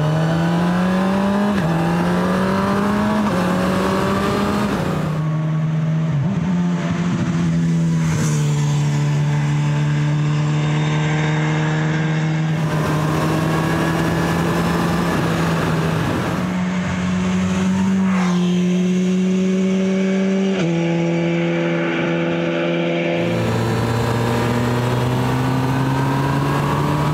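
A new motorbike rides along the road, with a steady engine drone that rises and drops in pitch as it works through the gears, loud and continuous throughout.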